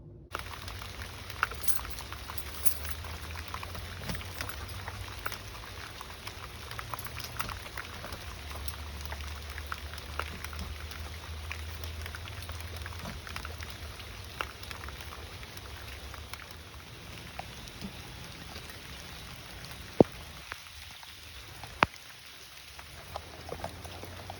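Steady rain falls outside in a continuous, even patter with scattered drops ticking on a surface, moderately close and unbroken for the whole stretch with no voices.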